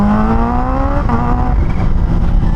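2025 Yamaha R6 sport motorcycle engine running close by and loud, holding a steady tone that dips briefly and then settles into a rough idle-like hum, no talking.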